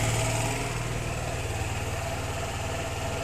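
A Suzuki GR150 motorcycle engine runs at a raised, steady speed during fuel mixture adjustment, a close continuous buzzing drone that settles slightly after the first half second.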